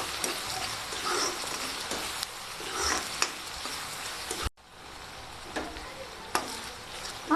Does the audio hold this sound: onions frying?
yes